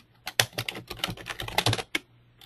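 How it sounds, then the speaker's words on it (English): Rapid, irregular keystrokes on a computer keyboard during a webinar, close and fairly quiet, clattering in quick bursts with brief gaps and no talk over them. "We're typing in your addresses into the chat box for everyone to see."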